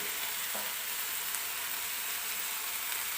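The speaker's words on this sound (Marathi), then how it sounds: "आता मी याच्यामध्ये खोबरं आणि लसणाचं कूट टाकले" Coconut and garlic paste fries in a pan for fenugreek leaf bhaji, a dense continuous sizzle with faint stirring under it, close and steady, no voices.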